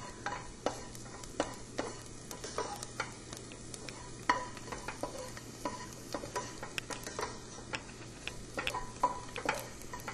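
Garlic fries in a pan over medium heat, with a steady soft sizzle broken by sharp ticks and scrapes from stirring throughout, close by and with no talking.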